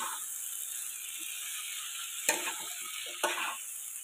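Potato, spinach and pea sabzi sizzles steadily in a pan while a spoon stirs it, with two distinct sharp scrapes against the metal standing out from the hiss; no speech.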